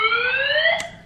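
Fire alarm sounding during a fire drill: a steady, piercing electronic tone heard alone, loud and continuous, with a brief click near the end.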